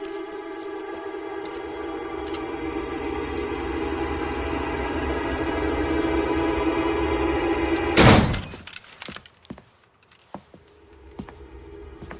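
A back door in the video game LA Noire thuds shut with one sharp, loud slam after a steady ambient hum, followed by a fading rattle and quiet.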